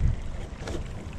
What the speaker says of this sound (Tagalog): Pinandar ko na ulit yung makina, gawa nung naubusan tayo ng diesel kanina